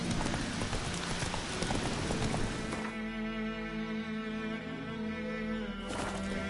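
Horse Roach's hooves clip-clopping in The Witcher 3, a steady close rhythm of hoofbeats that gives way to quieter ambient tones partway through.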